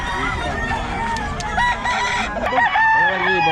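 A Sweater breed gamecock rooster crows amid clucking fowl on a farm, strained crowing calls rising and falling over a busy background of other chickens, with people talking faintly nearby.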